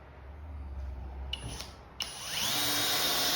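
Flex 1131 1/2 inch compact drill driving a screw, a short burst of motor whine and grinding that stops, then a louder sustained run that rises in pitch toward the end, close and alone.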